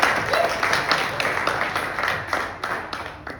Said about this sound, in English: Guys, give a round of applause.